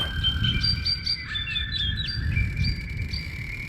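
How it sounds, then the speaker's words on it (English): A small songbird sings a run of bright, high chirps and whistled phrases, close and clear, over a steady low background rumble with no talking. "listen to the music of this little creature"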